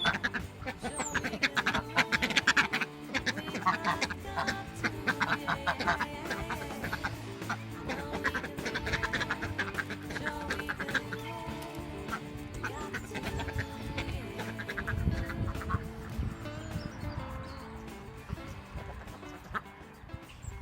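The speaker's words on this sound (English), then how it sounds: "these are our breeding ducks, ready for" Breeding ducks kept under cover on a homestead in January quack repeatedly in a busy, overlapping chorus that runs for about twenty seconds, close and steady, with some rustling and movement noise mixed in.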